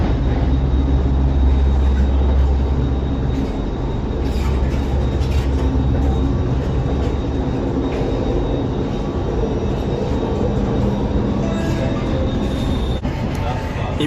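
A Malaysian metro train rumbles and roars steadily as it pulls away, a continuous low mechanical drone with faint voices in the background.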